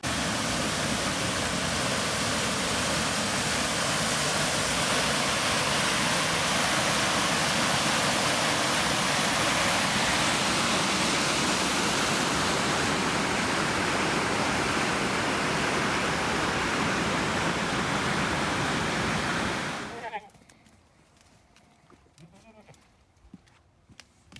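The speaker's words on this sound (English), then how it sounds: "That's the same creek that goes past, or goes through my driveway and is on our property." A creek flowing past a rural property near an old barn, a steady broadband rush of running water heard up close and loud for about twenty seconds before it drops away abruptly to quiet background sounds.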